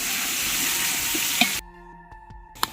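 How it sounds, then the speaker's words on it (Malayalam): Half a kilo of sliced onions sautéing in a hot pan for a macaroni biryani, a steady close sizzle for about a second and a half before it drops away to quiet stirring and a sharp clink. "ഇത് നന്നായിട്ടൊന്ന് വഴറ്റിയെടുക്കണം"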